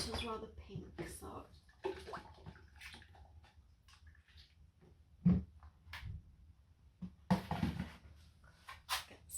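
Tap water running briefly while fetching fresh water to replace pink, clay-tinted rinse water during clay chain sculpting, a short splashy burst heard between stretches of close indoor talk.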